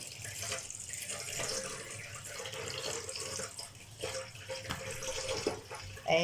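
Tap water runs steadily into a kitchen sink while a raw chicken is washed by hand, a soft continuous splashing stream with small shifts as the bird is turned under it.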